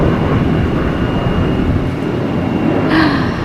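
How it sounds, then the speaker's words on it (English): Airplane passing overhead, a broad steady roar that fills the background outdoors, constant and fairly loud throughout with a brief brighter swell near the end, no talking. "hear the airplane"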